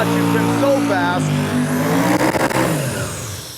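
A Nissan truck makes a drag racing pass at a duct tape drags event, its engine revving loud and close with rising tone, while a commentator talks over it.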